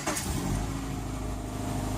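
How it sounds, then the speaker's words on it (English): A first-generation Subaru Impreza engine cranks and catches, then settles straight into a steady, close, droning idle with no voices over it. "when I start the engine"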